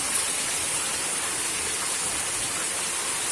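Water flows steadily at the Trou du Moulin river sinkhole after rain, a constant broad rushing roar, loud and unbroken, with no voices.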